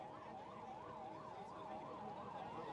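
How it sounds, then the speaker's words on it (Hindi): Ambulance siren wailing in a steady, regular up-and-down cycle at a crowded political rally for a nomination filing in Haryana, heard at moderate distance over a dense crowd murmur, without clear speech. "जो एम्बुलेंस आ रही है सभी साथी इस बात का ध्यान दें"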